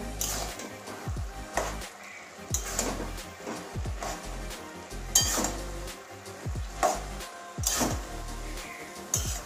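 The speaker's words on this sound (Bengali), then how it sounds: "এবারে ঢাকনাটা খুলবো" A metal lid is lifted off a simmering pot of cabbage curry with katla fish head, giving repeated clanks and scrapes of metal on metal over a soft bubbling background, with no talk.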